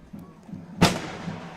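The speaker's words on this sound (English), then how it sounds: "And more fireworks here in Washington." A single firework bursts at an outdoor high school football game at Washington County. The sharp, loud boom follows a quieter stretch of stadium ambience and trails off in a rumbling echo.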